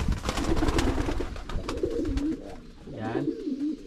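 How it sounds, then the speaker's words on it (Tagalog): Domestic pigeons kept with their grown young coo in soft, throaty, repeated low phrases close by, over a steady background hiss and faint murmur. "yung mga kalapati natin"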